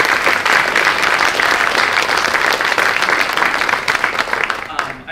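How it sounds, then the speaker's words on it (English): Audience at a university communication and media hall of fame ceremony gives a loud, sustained round of applause, dense clapping throughout and tapering slightly at the end. "So please, a round of applause for Dr."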